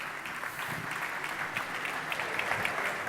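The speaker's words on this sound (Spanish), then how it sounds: "un fuerte aplauso para él" A conference audience at a 2015 business-cloud forum welcomes a panelist with steady applause, a sustained wash of many hands clapping at moderate loudness, without speech over it.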